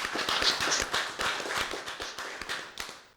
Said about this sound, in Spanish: deberíamos darle un aplauso a nuestro nuevo diputado